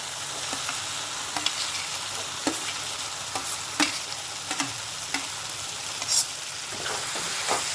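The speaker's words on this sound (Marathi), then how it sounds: "आता हे यामध्ये वांगे घालून घेते." Eggplant sizzles steadily in a hot pan for a baingan bharta, with a spoon stirring and scraping at irregular moments, the frying hiss fairly close and continuous with no voices.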